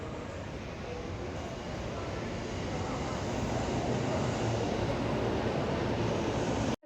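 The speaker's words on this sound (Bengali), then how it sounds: "এটা হলো জাপানের রেলওয়ে স্টেশন যে একটি ট্রেন আসছে" A train pulls into a railway station in Japan, heard as a loud, steady broadband rumble that holds evenly from start to finish before cutting off abruptly.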